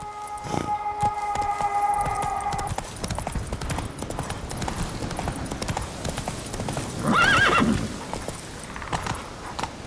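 Horse hooves gallop in a steady clip-clop rhythm in The Witcher 3 video game, with a loud whinny partway through and game music briefly audible at the start.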